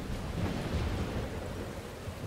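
Steady rain with a low thunderous rumble in the video game Life is Strange, a dense continuous wash of noise heard alone without talk.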